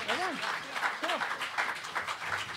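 Audience applause for a performer named Walter at a community hall open-mic night, a steady wash of clapping with a few voices talking over it, fairly close and moderate in level.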